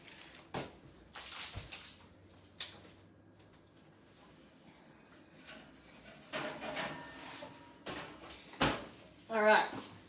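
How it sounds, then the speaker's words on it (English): Gluten-free brioche hot cross buns come out of a kitchen oven: a few clunks and metallic knocks of the oven door and tray in a quiet room, with people talking and a short rattle near the end. "So I'll just get them out of the oven."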